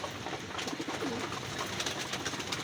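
Racing pigeons coo softly in a loft amid a busy, continuous background of other bird sounds, with low murmuring calls repeating throughout.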